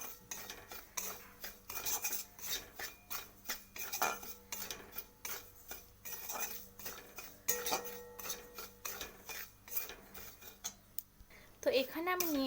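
A spatula stirs and scrapes dry semolina roasting in a hot kadai for suji chushi pitha, giving close, rhythmic metallic clinks and scrapes that repeat steadily throughout.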